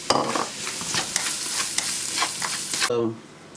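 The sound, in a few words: boiled potatoes frying in ghee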